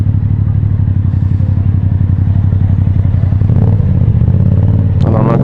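Motorcycle engine during break-in, loud and close, revving as the throttle is opened, a steady rapid engine clatter with the pitch rising near the end.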